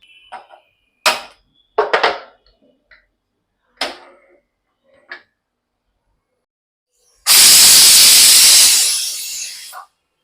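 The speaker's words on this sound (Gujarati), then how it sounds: "બે સીટી થઈ ગઈ છે ગેસની ફ્લેમ બંધ કરી દઈશું અને કુકર ઠંડુ થાય પછી ખોલશું" Pressure cooker on a full gas flame releases a loud, close burst of hissing steam lasting a few seconds, preceded by scattered clinks and knocks of the lid and weight.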